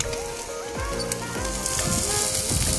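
Steady frying sizzle from an egg in a hot pan on a gasoline camping stove, crackling continuously with faint tonal clinks and hums in the background.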